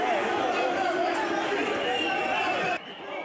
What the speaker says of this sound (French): Elle quitte les lieux sous les huées.